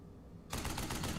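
A machine gun in the WWII strategy game Burden of Command bursts into rapid fire after half a second of quiet, a loud rattling stream of closely spaced shots.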